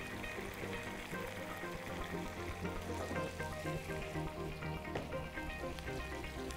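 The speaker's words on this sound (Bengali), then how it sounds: "1/2 কাপ পরিমাণ পানি দিয়ে কিমাটা রান্না করে নিতে হবে।" Minced meat simmering in a pan with half a cup of water and peas gives a steady, moderate sizzle and bubbling that continues without pause, with no talking.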